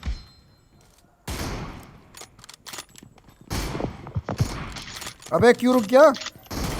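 Gunshots from a mobile shooting game, a 1v3 team deathmatch with an M24 sniper rifle: a few sharp bursts stand out among game noise, and someone talks excitedly over them.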